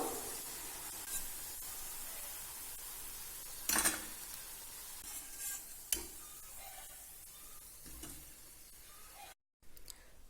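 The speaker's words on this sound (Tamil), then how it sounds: "மீதி இருக்கிறதையும் இதே மாதிரி பொரிச்சு எடுத்துக்கலாம்." Rava jamun balls frying in hot oil, giving a steady, even sizzle with a few brief clinks and stirring scrapes from a utensil turning them.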